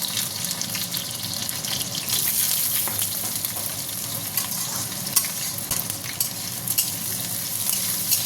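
Potatoes fry in hot oil with a loud, constant sizzling hiss and occasional crackles, steady throughout.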